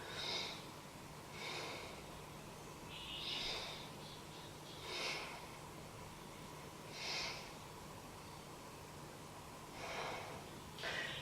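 A person in a beginner yoga session breathes deeply, a series of about six airy breaths spaced a couple of seconds apart over a low steady hum, close and without talk.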